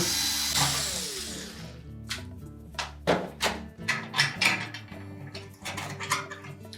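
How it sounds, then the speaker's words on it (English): A number 2 Phillips screwdriver backs out the mounting screws of a terminal block on a Whirlpool range, sharp close metallic clicks and rattling scrapes in uneven bursts after a brief hissy start, with no talking. "we'll then remove the two mounting screws, a number 2 Phillips screwdriver"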